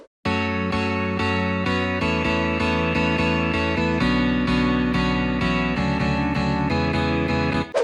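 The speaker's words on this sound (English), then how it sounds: "So I use Flex Guitar and try my best to get as close as possible." Layered guitar chords from a Flex guitar plugin in a future house production, struck in a steady sequence of sustained, changing harmonies, loud and alone with no talk.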